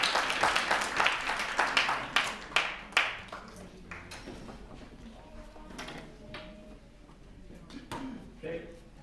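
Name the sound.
audience applause for General Matt Placken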